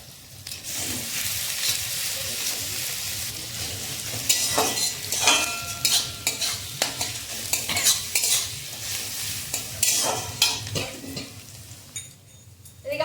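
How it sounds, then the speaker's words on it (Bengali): Onions sprinkled with salt fry in a pan while being stirred for a chicken dish, steady sizzling under repeated scraping and clinking of a spatula against the metal, close and fairly loud, no one talking. "পেঁয়াজটা ভাজা হতে থাক।"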